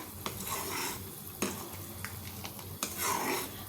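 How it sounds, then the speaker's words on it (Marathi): Creamy tomato soup bubbling and simmering in a pot, with occasional sharp clinks and scrapes of a spoon stirring it. "हे पहा छान उकळी आली आता ह्याला"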